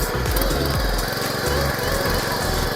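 An Antrac tiller powered by a Honda GX200 engine runs loud and close with a steady, throbbing small-engine chug and rhythmic low thumps as it works soil, continuous throughout.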